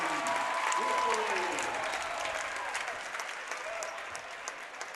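A home crowd at a boys' high school basketball tournament championship cheers and applauds loudly after a made basket, the roar swelling then easing over several seconds.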